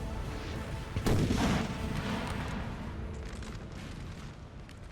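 Artillery fire in a Napoleonic-era battle at A Coruña in the Napoleon: Total War video game, a dense rumbling barrage with a louder boom burst near the one-second mark over continuous battle din.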